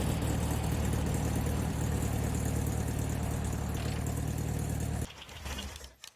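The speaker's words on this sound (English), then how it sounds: "Boy, that engine sounds hot" A Volkswagen Beetle engine runs in The Long Drive video game, a steady, loud mechanical hum and rumble that cuts off abruptly near the end, leaving a brief quieter stretch of faint noise.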